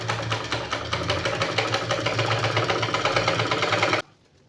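Steady, rapid mechanical stitching of a sewing machine joining pleated panels for a pleated langa skirt, loud and continuous at close range before stopping abruptly near the end.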